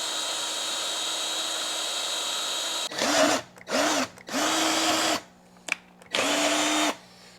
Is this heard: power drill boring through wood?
yes